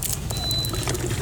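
Water poured from one bottle into another during a roadside cycling break, a steady close gurgling trickle lasting just over a second over outdoor background noise.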